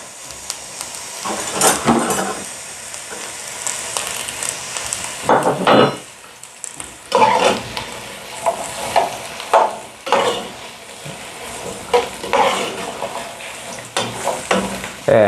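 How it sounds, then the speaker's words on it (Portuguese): Onions sauté in a pan for a katsu curry, with loud close sizzling and frying that swells in bursts as they are stirred, and short scraping strokes in between. "Agora nós vamos começar a refogar a cebola."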